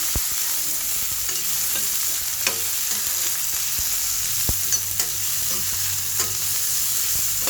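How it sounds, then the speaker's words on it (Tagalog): Garlic, onion, tomato and ginger sauté in a pan for sinigang, giving a constant close hiss of frying with occasional soft stirring clicks and no voices. "Ginigisa muna namin sa kambawang, sibuyas, kamatis at luya."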